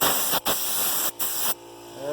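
A spray gun hisses loudly and continuously while clear coat is sprayed onto a 1987 Wizard project, broken by two brief pauses, with an air compressor kicking in as the hiss drops and a faint tone rises at the end.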